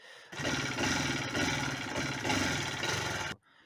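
A moped with a fault where it won't rev and stalls runs steadily, its engine putting out a dense, continuous buzzing drone close by before cutting off abruptly near the end.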